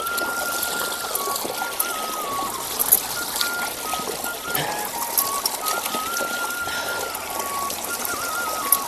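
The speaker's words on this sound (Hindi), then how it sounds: "बांझ की जड़ का पानी यहाँ पर आता है, बहुत ठंडा पानी आता है।" Cold spring water flows from banj oak roots in a village, giving a steady, close trickling and splashing that runs throughout, with a faint voice in the background.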